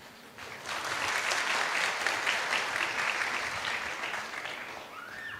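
An audience at a public meeting of St Mary's Orthodox Syrian Church in Ulhasnagar bursts into steady, dense applause that holds for about five seconds before thinning out, with no one speaking over it.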